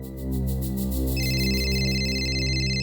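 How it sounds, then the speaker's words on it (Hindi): A telephone rings in a tense crime drama scene, a loud electronic ringtone that repeats in steady pulses and then shifts to a brighter, higher tone, with no talking over it. "आपका फोन बज रहा है, उठाइए।"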